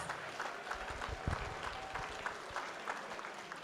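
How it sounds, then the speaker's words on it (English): Audience at a commemorative lecture giving a round of applause, a steady wash of clapping from many hands with some sharper individual claps standing out. "can we all give the Are a locomotive round of applause?"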